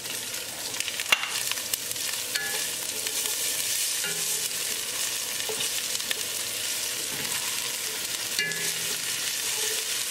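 Ginger and garlic sizzle steadily in a hot pan while being stirred for beef rice, a dense continuous frying hiss with a few faint utensil clicks, close and with no talking.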